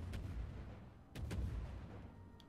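Bombs from dive bombers exploding in a naval battle video game, heard as two deep booming blasts about a second apart over a low rumbling background with no talk.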